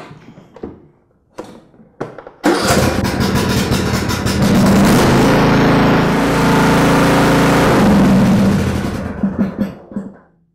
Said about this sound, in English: I'm just going to start up the motor and let it run for a couple of minutes to get that oil nice and warm